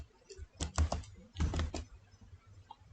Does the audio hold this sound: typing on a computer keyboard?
yes